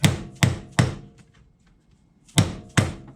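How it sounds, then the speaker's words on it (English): Five sharp metallic brass hammer taps on a steel shock cover of a 2020 Chevy Silverado, three in quick succession, a pause, then two more, close and ringing briefly. "I'm just using a soft hammer, brass hammer. Just kind of going around, hitting it."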